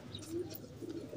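A wild pigeon with a missing leg gives soft, low coos, faint and close, in a bird-keeping setting in Pakistan.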